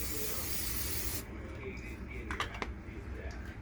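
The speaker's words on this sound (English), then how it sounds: "We're going to spray the inside of our pan." A short burst of cooking oil spray hisses into a pan on a stovetop, a soft steady spritz that stops abruptly, followed by light clinks.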